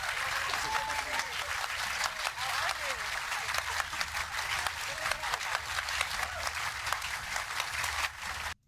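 Audience applause at a Nikki Haley town hall, a steady even clapping that continues for several seconds before cutting off abruptly at the end.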